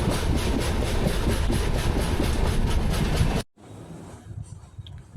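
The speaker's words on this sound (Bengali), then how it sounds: "আমাদের ট্রেন টানেলের বুক চিরে এগিয়ে চলেছে।" A passenger train running through a tunnel on the way to New Mal Junction in West Bengal gives a loud, steady rumble and clatter, then cuts abruptly to a much quieter hum.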